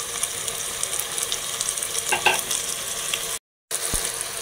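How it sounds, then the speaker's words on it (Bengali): Chicken gravy fries in a pan while it is stirred, giving a close, constant sizzle with faint scraping. There is a brief cut to silence near the end, and no talking. "এখন আমি এগুলোকে নাড়াচাড়া করে দিব"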